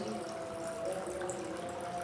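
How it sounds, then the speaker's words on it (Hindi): Water runs steadily from a household tap while a container is filled, a continuous gushing flow with no speech over it. "मैं यहाँ पे पानी पीऊँगी, फिर बच्चों के लिए पानी भर के जाऊँगी।"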